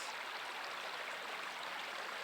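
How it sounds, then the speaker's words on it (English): A river rushes steadily over rocks in a dense, even wash of water noise that holds at the same level throughout, close by, with no voices. "This here is called a river."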